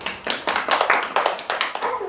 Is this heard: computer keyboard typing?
no